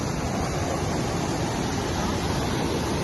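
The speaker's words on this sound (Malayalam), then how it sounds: "ഈ ഒരു സ്പോട്ടിൽ നിന്നാണ് വെള്ളം അടിയിൽ നിന്ന് മേലോട്ട് ഉദിച്ചു വരുന്നത്." Water welling up from below at a dam churns in a dense, constant roar, loud and near, with no voices over it.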